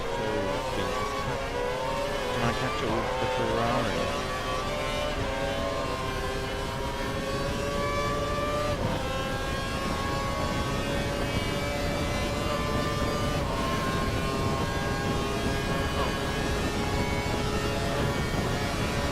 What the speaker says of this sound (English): Well, I'm running full revs as well, so this will be interesting